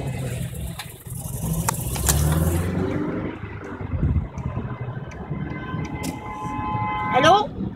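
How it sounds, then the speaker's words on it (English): Emergency vehicle sirens rise and wail near a burning bus on a highway ramp, mixed with a steady rumble of traffic and engines while a person talks. "I hear sirens."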